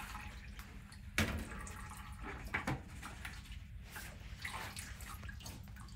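Liquid sloshing and dripping in a small container as a honeybee mite sample is washed, with a few sharp splashes and knocks over a low background.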